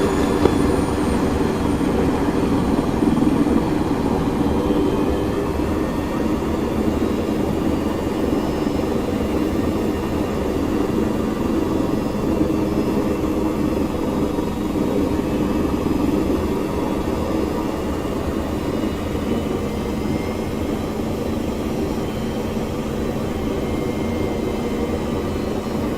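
Helicopter lifting off in the combat game Arma 3: a steady, droning engine and rotor rumble holds at an even, fairly loud level throughout, with no voices.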